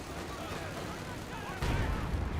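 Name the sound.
satchel charge explosion in the video game Company of Heroes 2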